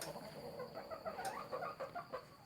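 Farm chickens clucking softly at a distance, a scattered run of short, faint calls against low background noise, with no talk.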